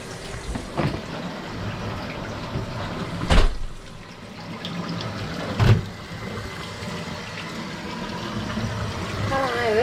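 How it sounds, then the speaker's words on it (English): Water runs steadily from a tap as a tie-dye shirt is rinsed, a continuous close splashing wash with a couple of sharper sloshing surges along the way. "Here to wash out another tie-dye."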